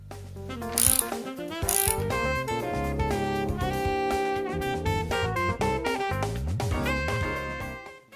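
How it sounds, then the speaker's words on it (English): A ratchet wrench tightening nuts on barn door hangers fastened with carriage bolts, flat washers and acorn nuts, giving steady, rapid mechanical clicking that runs nearly continuously and close by, with brief louder bursts near the start. "Tighten the nuts to secure the hangers to the door."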